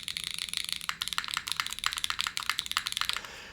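Fast, steady typing on The Protagonist mechanical keyboard resting on a suede desk pad: a dense run of close, crisp clacks with a few brief pauses, a slightly deeper, muted tone, and no voices.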